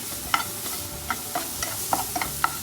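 Chopped mushroom stems and chicken stirred in a frying pan, with sharp utensil clicks and scrapes scattered over a soft, low sizzle and no voices.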